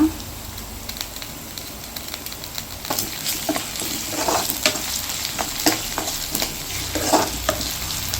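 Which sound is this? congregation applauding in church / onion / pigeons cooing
onion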